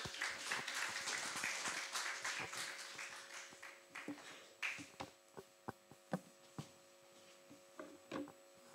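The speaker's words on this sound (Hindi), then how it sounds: "एक बार जोरदार तालियों से" An audience at a Hindi poetry and ghazal literary gathering applauds, a faint, steady patter of clapping that thins out into a few scattered, isolated claps near the end.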